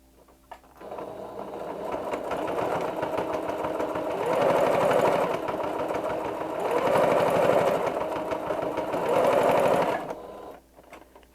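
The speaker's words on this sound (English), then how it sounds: "I'm going to put a few stitches in" Sewing machine stitching a fabric gift bag, a steady mechanical whir running continuously with three surging bursts of faster stitching, close and fairly loud, with no talking.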